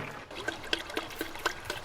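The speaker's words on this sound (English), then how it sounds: "Shall I just add the shampoo to the water? Pour 3 capfuls." Car wash shampoo trickling from a capful into a bucket of water, a soft liquid dribble with a few small splashy peaks, close and fairly quiet with no talk.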